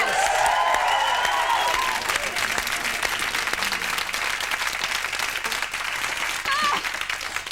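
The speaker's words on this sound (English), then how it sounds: "Round of applause." Steady, dense applause from a large television studio audience fills the whole stretch, with scattered whoops and a voice briefly audible beneath the clapping.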